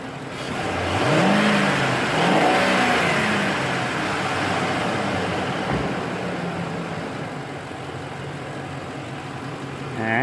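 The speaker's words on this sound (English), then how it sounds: "Give it a good rev up." A 2006 Ford F150 with a 5.4 Triton engine is revved in a couple of surging pulls that fall back toward a steady idle, close and loud.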